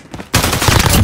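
A loud, rapid burst of gunfire from Call of Duty: Modern Warfare in Kill Confirmed mode erupts after a brief quiet moment, then continues as close, sustained automatic fire.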